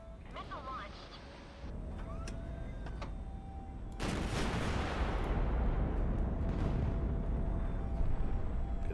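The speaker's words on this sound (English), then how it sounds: "Missile launched." A proximity-fused missile launches and strikes its target in the Highfleet naval combat game, a broadband roar starting softly then swelling into a loud, sustained rumbling blast at midpoint, with an earlier tonal launch whine underneath.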